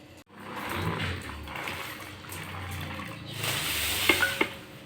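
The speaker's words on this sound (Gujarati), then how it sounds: "હવે આપણે બધું વારાફરતી પાણીમાં નાખીને બધું બકાલું ધોઈ નાખીએ।" Vegetables for Gujarati undhiyu being rinsed in a vessel of water, giving a steady wet swishing and sloshing with a few sharp clinks near the end, close by and moderately loud.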